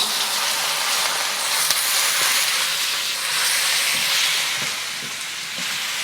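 Gailan stir-fries in a hot pan with a loud, continuous sizzle and hiss, close up and steady, with faint scrapes of stirring underneath.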